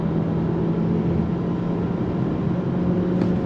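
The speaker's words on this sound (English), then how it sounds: "On throttle, here we go. All the way up to red line." A 2024 Alfa Romeo Tonale plug-in hybrid SUV engine revving steadily toward its roughly 5,800 RPM redline, a continuous loud droning hum heard from inside the cabin with no talk.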